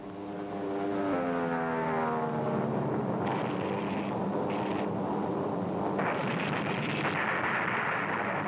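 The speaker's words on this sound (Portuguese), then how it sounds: "Os pilotos veteranos empenham-se em lutar contra a patrulha aérea assim que os aviões americanos levantam voo." American propeller warplanes taking off in a World War II setting, a loud roaring engine drone that rises and shifts in pitch, with deep rumbling underneath and no voices.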